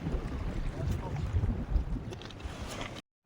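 Wind buffets a fishing boat out at sea, a low, rough roar of gusts pressing close against the microphone, then cutting off abruptly just before the end.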